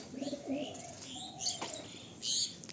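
A pair of Kalpetiyal pigeons offered at a pigeon sale coos softly in several short, repeated phrases, with chirps and a brief wing flutter near the end.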